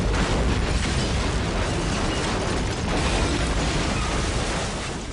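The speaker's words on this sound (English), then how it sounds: "The initial explosion in Daylight triggers an overwhelming blast of oxygen-seeking fire that destroys nearly everything in its path" A huge movie special-effect explosion and fire blast from the film Daylight, a dense, loud, continuous roaring rumble of flame with a slight swell near the three-second mark, fading only slightly by the end.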